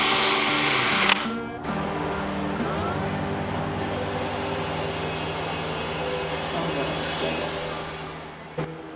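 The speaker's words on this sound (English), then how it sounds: "it's time for some sanding before we permanently attach the top." Wooden farmhouse coffee table being sanded with a power sander: a steady, loud motor whir and abrasive hiss that holds for several seconds, with brief shifts in pressure and a short break near the start.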